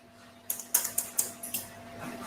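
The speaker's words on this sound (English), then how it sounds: "Excuse the noise of my scissors." Several sharp metallic snips of scissors cutting hair click in an uneven rhythm, close by, then a softer brushing sound follows.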